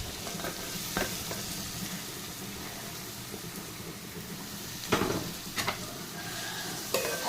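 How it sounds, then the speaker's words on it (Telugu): Onions and green chillies sizzle steadily in hot oil, a constant frying hiss close by, punctuated by a few sharp scrapes and clanks of stirring against the pan. "ఇప్పుడైతే మనము ఉల్లిపాయలు పచ్చిమిరపకాయ వేసేద్దాం."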